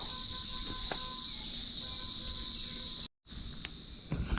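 Crickets chirp outdoors at a countryside house site as a steady, high, continuous trill with no talk, cut by a brief silent gap before the chorus resumes.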